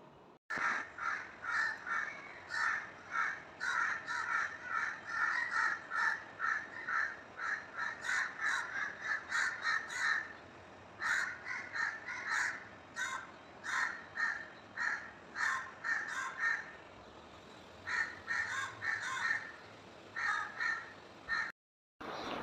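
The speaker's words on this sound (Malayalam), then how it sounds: "രാവിലെ കാക്കകളുടെ നല്ല സൗണ്ട്" Crows caw in the morning in repeated bursts of harsh calls, several birds overlapping at moderate distance, continuing through nearly the whole stretch with brief pauses and no talking.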